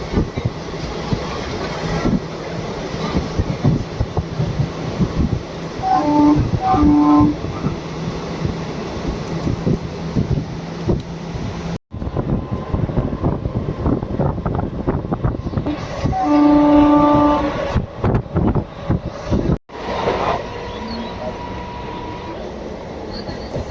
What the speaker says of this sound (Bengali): এখান দিয়ে ট্রেন চলাচল করতেছে